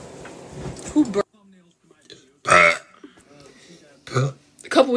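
Deep belches from a young woman on a TikTok live stream, several bursts spread across the stretch, with people talking in between.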